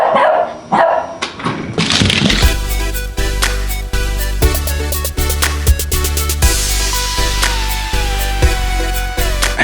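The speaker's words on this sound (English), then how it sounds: "that is a day of fun for these little doggies" Small dogs bark repeatedly and loudly at close range, with sharp yips and a few whimpers in a steady, excited rhythm indoors.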